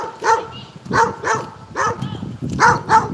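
Several dogs bark in short sharp bursts, about eight barks in quick irregular succession, close and loud with no talk over them.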